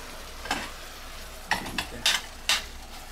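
Beef and broccoli sizzle quietly in a pan under a steady low fry, broken by four or five sharp scraping stirs spaced irregularly through the few seconds.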